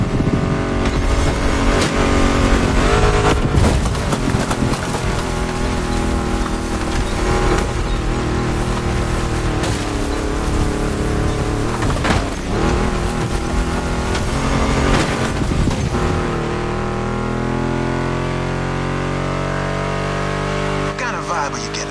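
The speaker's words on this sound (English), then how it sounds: "Meshes well with the sound of the engines, you feel me?" Mustang GT muscle car engine in The Crew Motorfest racing game, a loud continuous roar with shifting revs throughout, mixed with music and a voice talking over it.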